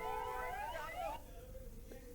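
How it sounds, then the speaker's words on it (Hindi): An ambulance siren wails on a highway during a farmers' protest, its rising and falling tones loud for about a second before cutting off, leaving a low rumble of traffic and crowd noise. "जैसे ही एक एम्बुलेंस आती है किसान तुरंत उस एम्बुलेंस को रास्ता देते हैं"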